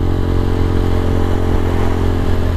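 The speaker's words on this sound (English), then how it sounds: "warm your fucking bike up, guys." Motorcycle engine warming up, a loud close steady idle with a rough throbbing rumble and a light mechanical clatter, with no voices.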